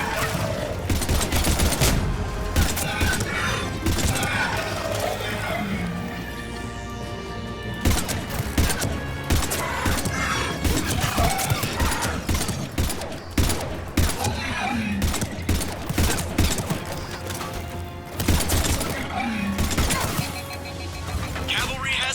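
Dense, sustained gunfire from the Mass Effect video game during an escape from Earth, with rapid volleys and bursts of shots crackling almost continuously for over twenty seconds amid explosions and combat noise.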